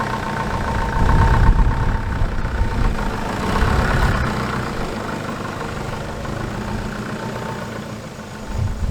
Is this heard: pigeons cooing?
no